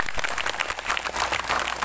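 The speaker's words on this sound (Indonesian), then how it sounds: "tepuk tangan buat beliau" Audience applause fills the room at an Islamic religious gathering, dense steady clapping from many hands held at an even level throughout the short stretch.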